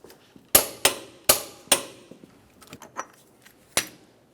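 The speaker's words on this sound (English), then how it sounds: "Now we can torque this to 180 foot-pounds." Sharp metallic clanks and ratchet clicks from a torque wrench tightening the front wheel hub nut of a 1994-2002 Dodge Ram 2500 to 180 foot-pounds; four loud strikes in quick succession, then lighter clicks and a final clank, close and without talk.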